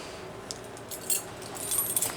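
Keys jangle faintly in short metallic bursts, a few light clinks scattered across the moment, quiet and close with soft room noise underneath.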